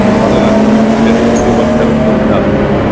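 BMW 328i turbo race cars roar together on a circuit in a loud, steady engine drone with a strong low hum, while a commentator talks over the noise.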